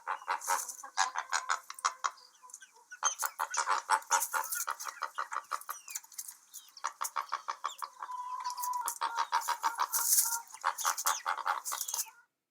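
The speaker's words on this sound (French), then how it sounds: "Tu entends? Il cancane." Rapid, repeated quacking calls in raspy bursts, close and fairly loud, continuing almost without pause.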